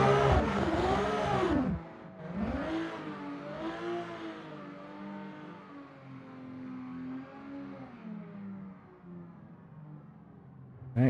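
A drift car engine at a Formula Drift event at Soldier Field revs steadily for about eleven seconds, loud and close, with rising and falling pitch sweeps and a sustained strained drone.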